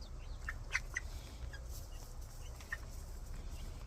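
Chickens cluck softly in short, scattered bursts over a low background rumble, fairly quiet and a little distant.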